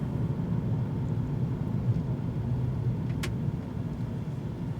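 A Toyota Yaris GR with a 1.6-litre turbocharged petrol engine gives a steady, even low rumble throughout, with no sharp revs or changes and no one speaking.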